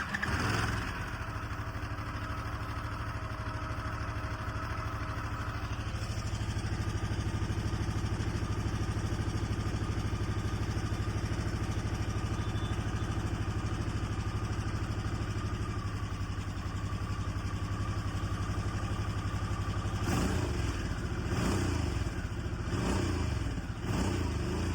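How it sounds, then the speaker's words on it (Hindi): Stock-exhaust Harley-Davidson Sportster S 1250 idling steadily and loud for the whole stretch, its low engine rumble unbroken, with a few brief throttle blips near the end. "अभी मैं आपको एक बार चालू करके इसका इंजन नोट भी सुनाता हूँ।"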